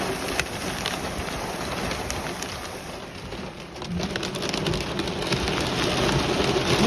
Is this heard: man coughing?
no